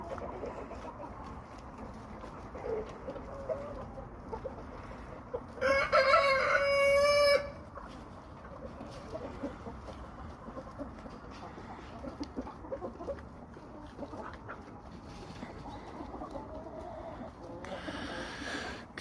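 Adler poultry in a farmyard: a rooster crows once, loud and clear for about two seconds, over a constant low background of hens clucking and rustling, with a fainter call near the end.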